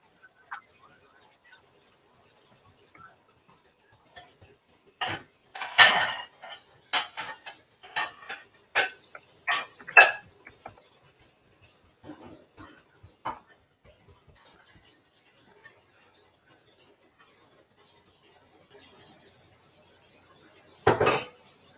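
Dishes, pots and cutlery clink and clatter in a busy burst of washing, with scattered knocks fading to sparse taps and one final loud clank near the end.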